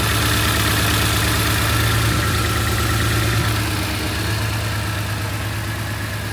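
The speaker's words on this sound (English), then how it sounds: "Sounds nice, runs nice, other than, as I say, the misfire." A BMW E46 M3 engine with a slight misfire idles steadily at close range, a continuous low rumble that holds level throughout with no voices.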